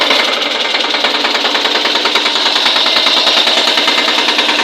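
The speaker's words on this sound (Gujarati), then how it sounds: "અવાજ તમે સાંભળી શકો છો ટ્રેક્ટરનો" A Captain 8G tractor engine runs steadily up close, a loud continuous rapid knocking chug with a gritty rattling texture and no talk.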